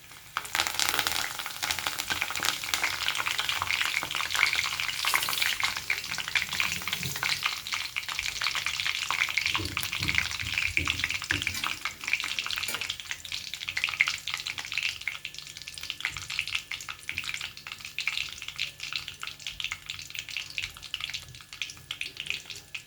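Cumin, mustard seeds and curry leaves fry in two spoons of hot oil for brinjal fry, giving a loud, steady crackling sizzle with sharp pops throughout and no talking.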